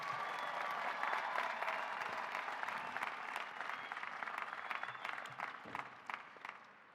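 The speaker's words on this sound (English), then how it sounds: "How about a round of applause for our candidates?" A large commencement audience applauds graduate candidates, a broad wash of clapping that is loud at first and gradually thins into scattered individual claps, heard from a distance with little talk.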